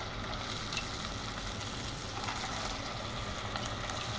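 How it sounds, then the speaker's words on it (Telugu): Potato pillows deep-frying in hot oil make a steady, even sizzle that fills the whole stretch at moderate loudness, with a soft low background hum under it and no voices. "ఇప్పుడు తయారు చేసి పెట్టుకున్న పొటాటో పిల్లోస్ని ఒక్కొక్కటి ఆయిల్లో ఫ్రై చేసేద్దాం."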